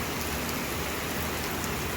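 Steady rain pours down in a dense, even hiss, close and continuous with no voices.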